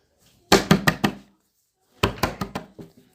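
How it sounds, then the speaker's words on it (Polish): Two bursts of knuckle knocks on a door, four or five quick raps each, separated by a short pause, close and fairly loud with no talking. "Pukają do nas trzeba uciekać."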